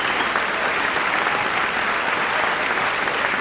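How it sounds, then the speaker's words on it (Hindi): An audience claps loudly and steadily for a singer coming onstage at an indoor event, a dense, even burst of applause with no voices over it. "जोरदार तालियां।"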